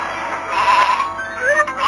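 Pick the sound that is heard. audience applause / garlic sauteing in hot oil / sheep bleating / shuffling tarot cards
sheep bleating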